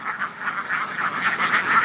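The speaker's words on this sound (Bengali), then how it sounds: "আমরা আজকে যে শেডে দাঁড়িয়ে আছি এটি একটি রানিং ডিম পাড়ার হাঁস" Egg-laying ducks in a duck farm shed quack in a dense, continuous chorus, many birds calling at once close by with a rough, nasal texture.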